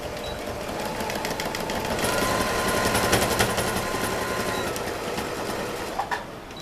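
Sewing machine stitches a pencil case with backstitching, a rapid close mechanical chatter that speeds up and slows in short bursts, ending with brief clicks.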